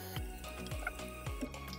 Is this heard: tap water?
yes